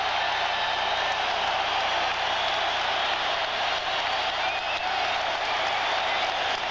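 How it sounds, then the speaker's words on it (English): Basketball crowd at Chicago Stadium roaring and applauding as the Bulls take the court for 1992 NBA Finals Game 6, a dense, continuous wash of cheering and clapping, with an announcer's voice faintly over it. "Crowd here at Chicago Stadium roaring its appreciation as the Bulls take the court"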